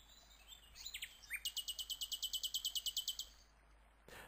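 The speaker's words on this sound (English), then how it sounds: "the sound of the bird song will be coming more from the right-hand side" Birdsong recorded outdoors and panned in a Cubase mix: a few scattered chirps, then a rapid, even series of about fifteen bright high notes, clear and fairly near, ending with a brief soft rustle.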